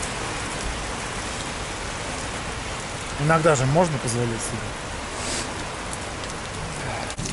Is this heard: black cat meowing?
no